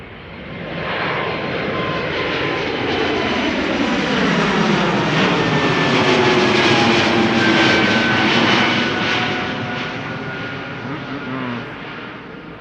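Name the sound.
Air Baltic jet departing Amsterdam Schiphol for Tallinn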